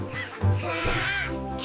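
A cartoon parrot's squawk in a children's jungle animal-sounds cartoon, a short rasping cry that a voice performs in imitation of a bird.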